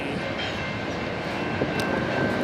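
Heavy freight train passing on the Tehachapi railway line, a continuous loud rumble and grinding of railcars rolling close by, with no talk.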